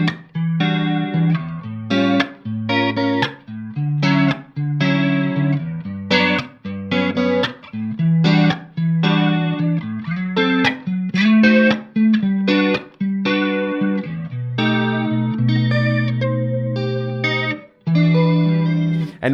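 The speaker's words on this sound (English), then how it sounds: "create other effects, like a chorus effect right now" Electric guitar played through a delay pedal set to a 2 ms delay for a chorus effect, with a shimmering, doubled tone over a run of plucked notes and chords, loud and alone.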